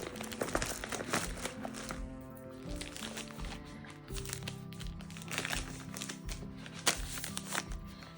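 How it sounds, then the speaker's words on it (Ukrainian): Plastic packaging around paper towels crinkles and rustles steadily, close and fairly quiet, with continuous handling noise throughout. "Також ось такі паперові рушнички."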